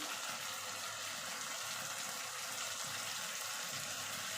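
Water from a rinsed mixer jar pours into a pan of spiced egg, potato and cauliflower curry, a steady, even gushing wash of liquid with no pauses, fairly quiet throughout.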